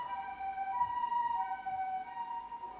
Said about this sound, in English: there's an ambulance just driving past now